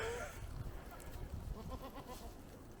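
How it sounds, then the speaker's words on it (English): A large herd of goats crowding around on a Norwegian roadside, with several overlapping bleats partly masked by steady wind and ambient noise at close range. "Well, we've now been surrounded by goats."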